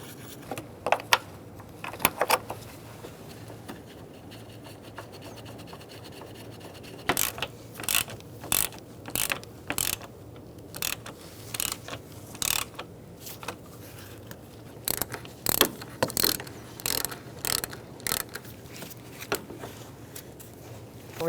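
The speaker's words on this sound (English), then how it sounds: "Now we're going to put our bolts in to hold in the radiator. Just hand start them." Bolts being threaded in by hand to hold the radiator of a 2007-2017 Ford Expedition 5.4L V8, giving repeated short metallic ratcheting and scraping bursts in irregular clusters, close and fairly faint, with no talk.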